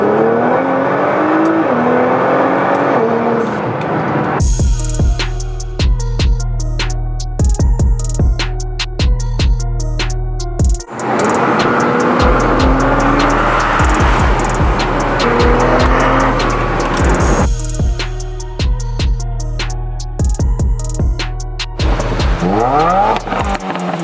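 A new Subaru WRX cruises on the road, its engine loud and close as the revs climb repeatedly through gear changes, with steady drone between shifts.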